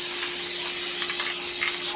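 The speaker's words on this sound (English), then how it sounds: "Spray a 9-inch pie pan with cooking spray" Cooking spray hisses steadily from an aerosol can onto a 9-inch pie pan, one close, continuous spray lasting about two seconds.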